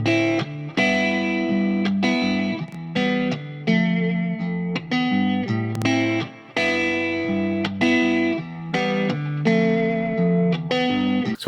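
Plucked, tonal musical notes run through the Safari Pedals Camel Strip channel-strip plugin with EQ, light compression and spring reverb, a continuous melodic phrase with a warm, slightly colored, reverberant sound.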